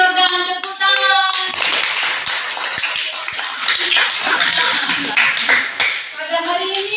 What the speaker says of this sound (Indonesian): terima kasih Jordan, tepuk tangan.